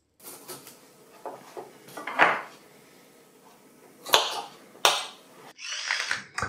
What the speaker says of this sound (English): And then squeeze them through the mincer.